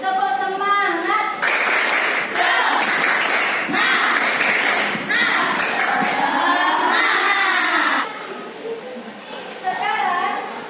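Schoolchildren in a classroom perform a rhythmic clapping cheer, bursts of patterned claps mixed with loud chanting and shouting voices, the group pausing briefly before another short round.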